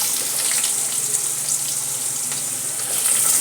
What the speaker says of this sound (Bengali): এটা আমি এবার সবজিগুলো ঢেলে দেবো আস্তে আস্তে। এটা গরম হয়ে গেছে।